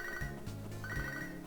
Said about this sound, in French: j'ai pas envie de répondre au téléphone